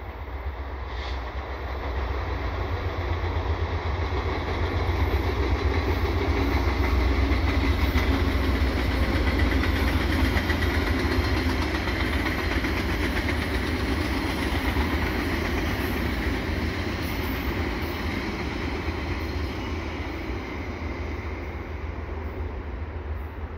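An EXO commuter train and a Via Rail LRC train pass each other at Falaise St Jacques in Montreal West, a loud, steady rolling rumble with faint wheel clatter and engine drone for the whole stretch.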